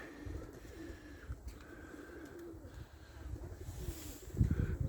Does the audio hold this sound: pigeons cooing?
yes